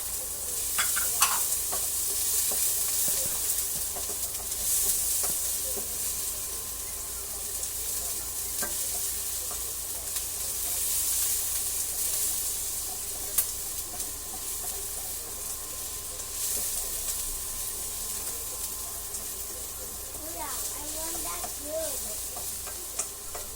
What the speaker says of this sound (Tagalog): Gisa po natin ng maigi.